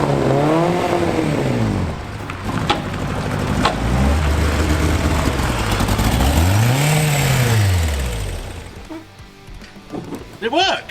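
A Van Diemen Formula Ford race car engine, first started after thirty years, revs up and down in long rising and falling sweeps at close range, loud and raw, before easing off near the end.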